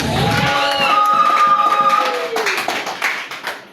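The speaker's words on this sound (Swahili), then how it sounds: "Chapie makofi baba mzee wa Yesu." Church congregation clapping hands during a lively sermon, a dense burst of claps with a sustained voice in it at first, then scattered taps that thin out toward the end.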